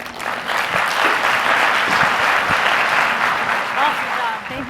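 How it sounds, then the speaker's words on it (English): An audience at a live conference event applauds after a talk, a dense steady burst of clapping lasting several seconds, close and loud, with a voice faintly audible underneath. "Big round of applause for Mr. Carl Childers, please."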